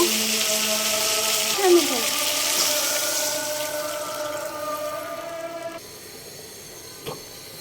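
Water pours into a pot of rohu fish and green banana curry with a steady rushing hiss that gradually settles, while a voice talks faintly underneath.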